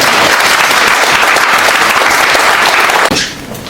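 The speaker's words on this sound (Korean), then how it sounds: "큰 박수로 환영해 주시기" A crowd gives loud, dense applause to welcome a speaker at the founding event of a citizens' democracy movement. It holds steady for about three seconds, then cuts off abruptly and fades to a few scattered claps.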